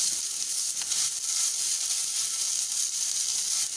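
Paratha filling of chopped coriander frying in a pan over a gas flame, giving a steady, soft hiss and sizzle with no talking.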